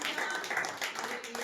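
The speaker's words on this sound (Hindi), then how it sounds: "कोई तो प्रभु के लिए ताली बजाकर उसे महिमा दे" A church congregation claps for the Lord in a burst of mixed, fairly faint applause, blended with crowd voices.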